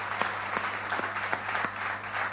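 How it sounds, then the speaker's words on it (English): A steady round of audience applause at a book launch, dense clapping sustained at an even level throughout with a few sharper individual claps standing out. "I think that deserves a round of applause"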